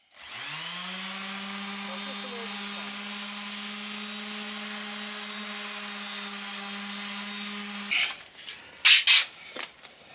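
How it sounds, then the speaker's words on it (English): Power sander running steadily with fine sandpaper for about eight seconds, a constant mid-level whine with a low hum, ending in a few louder scuffs and knocks once it stops. "This is why I'm using fine sandpaper, because if I use rough sandpaper that would have tore that completely"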